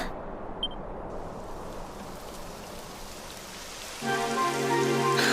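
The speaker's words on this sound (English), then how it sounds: "It would have to go and start raining, wouldn't it?" Steady rain patters and hisses on a surface throughout, joined near the end by a low sustained musical tone, in the video game Dragon Quest XI.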